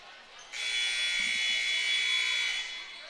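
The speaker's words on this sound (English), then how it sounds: "There is the buzzer." A loud, harsh electronic buzzer at a sports game blares continuously for about two seconds, then cuts off, with faint crowd noise underneath.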